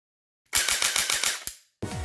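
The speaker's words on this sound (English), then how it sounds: "you just hold it on fire while you're shooting" A Double Eagle Mini Shot airsoft gun fires a loud, rapid full-auto burst of about eight close shots, stops abruptly, and after a short pause a second burst begins.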